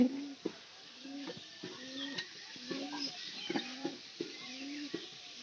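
Pigeons coo repeatedly in low, rolling phrases at a loft, close but soft, over a faint steady background hiss.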